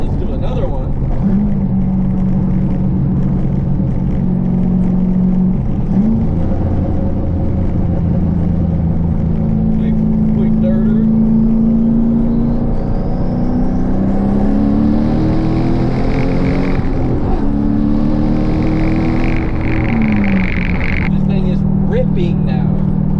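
A turbocharged Maro car engine, now running on all eight cylinders after a misfire fix, accelerates hard with a loud sustained drone that rises and shifts in pitch through gear changes, heard from inside the car over road rumble.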